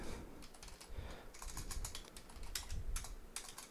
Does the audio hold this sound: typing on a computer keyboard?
yes